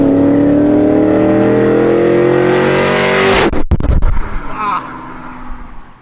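An LS V8-swapped Chevy C10 pickup engine revs up loud and close, climbing steadily in pitch before an abrupt lift-off with popping and a rough settling idle, with faint voices near the end.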